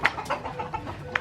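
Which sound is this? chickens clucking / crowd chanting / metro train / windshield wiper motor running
chickens clucking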